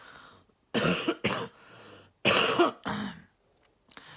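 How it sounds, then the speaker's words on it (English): Several harsh, close coughs come in two clusters of two or three, separated by quiet pauses. "I'm sorry if I coughed through this whole thing."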